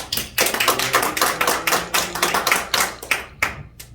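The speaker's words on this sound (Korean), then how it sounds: "주님께 우리 영광의 박수 크게 올려드리겠습니다." A church congregation at a Korean theological school's spiritual revival meeting claps loudly and steadily together, with closely spaced, evenly rhythmic hand claps filling the room before stopping abruptly.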